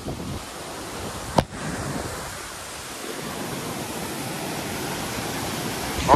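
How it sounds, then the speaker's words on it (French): A small mountain waterfall near the Ayous lakes in the winter Pyrenees gives a steady, even rush of falling water, broken once by a short sharp click. "Petite cascade des familles."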